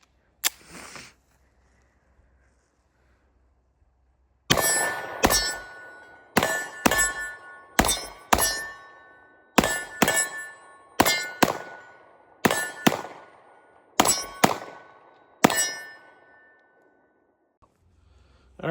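A Kimber DS Warrior 10mm 1911 pistol fires old ammunition: about a dozen sharp, loud cracks in quick, uneven succession after a few quiet seconds, each with a short ringing tail.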